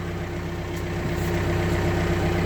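Tractor engine idles low and steady in a vineyard, a close, continuous mechanical rumble with an even low pulse and no talking.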